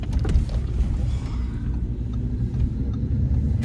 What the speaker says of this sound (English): this car has a custom exhaust on it